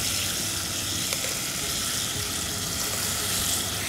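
A coriander and garlic paste sizzles in a hot pan with potatoes, a steady, close, hissing fry that holds evenly throughout with no talking.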